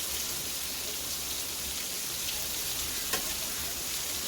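Mangalore-style fish frying in oil, giving a dense, even crackling sizzle that runs steadily throughout at moderate level, with no talk.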